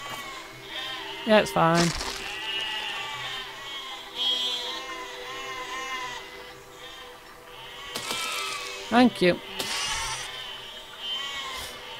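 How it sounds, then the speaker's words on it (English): Sheep in the video game Besiege bleat repeatedly, with long wavering cries recurring through the clip alongside a few sharp knocks, while a person talks over the game sound. "And rest of the sheep is down here to kill"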